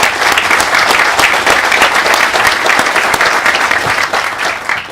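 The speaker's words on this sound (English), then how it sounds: "I think that deserves a round of applause too" An audience at a hospital groundbreaking ceremony breaks into applause, a dense, steady clatter of many hands lasting the full five seconds and easing slightly at the end.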